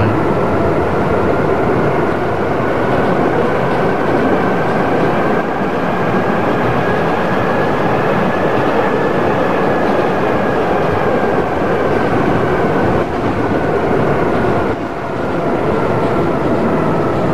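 A Toronto subway train running in the Hmmsim2 train simulator, a loud steady rumble with a rising and falling motor whine that holds throughout, with no voices.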